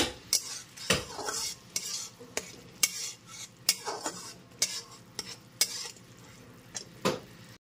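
Ground spice paste with three slit green chillies sautéing in oil for a potato, green banana and katla fish curry, with a steady sizzle and rhythmic, repeated spatula scrapes and clinks against the pan.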